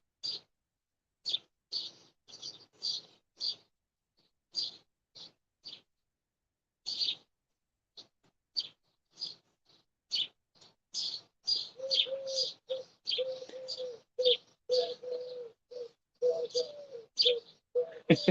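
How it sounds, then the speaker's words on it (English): Birds call in repeated short bursts, with a steady train of low cooing notes from mourning doves in the second half; the calls come at moderate distance and no one talks. "Morning doves are really vocal today."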